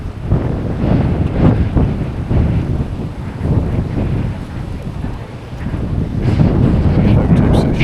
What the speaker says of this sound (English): Very, very windy up here.